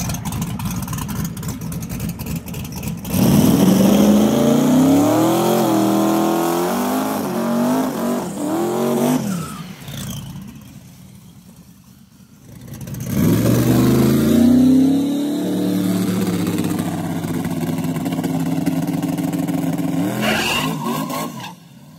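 A high-power boosted drag race car making a test pass down a street-car track surface, its engine roaring loud and close as it accelerates through rising revs, easing off, then building again into a second sustained run.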